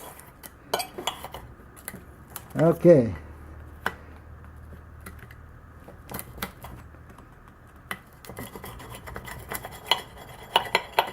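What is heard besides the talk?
plain edge knife cutting against a hard surface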